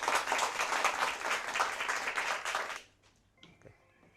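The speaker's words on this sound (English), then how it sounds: "Round of applause for SDA." Audience applause at a school math championship fills the room loudly with dense clapping for about three seconds, then cuts off into quiet room tone with faint rustling.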